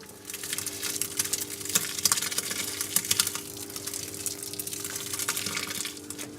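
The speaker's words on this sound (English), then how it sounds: "tipping it into the mash tun" Hydrated malt tipped into a mash tun, a faint wet gushing and sloshing with a steady low machine hum beneath, close and irregular, no voices.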